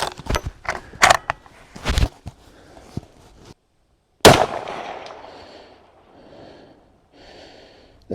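A Ruger American Gen2 rifle chambered in 400 Legend fires one sharp, loud outdoor shot with a trailing echo, after a run of clicks and clatter from handling the rifle.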